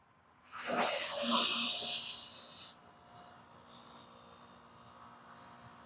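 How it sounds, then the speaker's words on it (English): An LPG pump motor starts up with a brief loud surge, then settles into a steady electric hum with a faint hiss, running on alone without speech. "So I'm going to turn the pump system on for an initial check"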